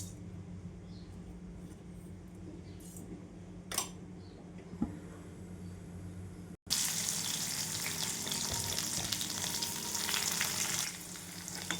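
Mustard seeds tempering in two spoons of hot oil in a kadhai. Faint room noise gives way midway to a sudden loud, steady sizzle with scattered crackles that continues to the end.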